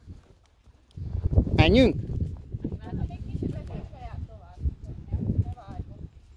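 A horse walks along, its hooves clip-clopping in an irregular rhythm close by, mixed with people chatting and calling out.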